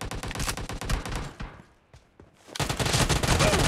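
Uzi submachine gun fire in PUBG Mobile: loud, rapid automatic bursts, a brief lull in the middle, then another dense burst of shots.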